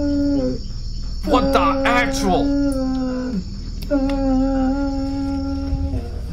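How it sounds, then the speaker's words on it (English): A dog howls in long, wavering, drawn-out tones that rise and fall, in two separate bouts with a short gap between, heard beneath a person talking and exclaiming. "Bro, is that a dog?"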